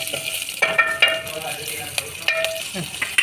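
Garlic and green chillies fry in oil in a pan for a Vidarbha-style kadhi, a soft steady sizzle broken by sharp utensil clinks and stirring scrapes at irregular intervals, close and moderately loud.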